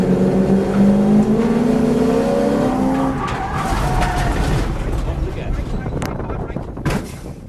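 A race car on a track brakes hard: a loud engine note falls away over the first three seconds, then a rough, broadband rush of tire skid takes over until the end. A voice speaks over it.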